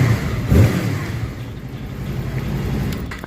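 Honda VFR800 motorcycle engine firing up on a warm start with a new battery, a brief burst of revving near 0.5 seconds, then settling into a steady mid-pitched idle, close and moderately loud.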